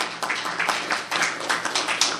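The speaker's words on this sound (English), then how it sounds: "let's give them a round of applause for it" An audience claps in a brief burst of applause, a dense patter of hands near and moderately loud, lasting a couple of seconds.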